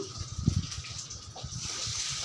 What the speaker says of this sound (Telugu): ఈ వాటర్ పోసి శుభ్రంగా కడుగుదామండి